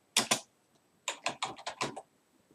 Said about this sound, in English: And you can type more than one thing